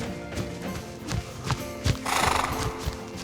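A horse being ridden in dressage schooling gives off clip-clop hoofbeats and a whinny, with irregular thumps and a louder, noisier burst midway, and no talk.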